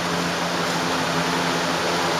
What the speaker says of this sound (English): You're going to have to excuse the fan noise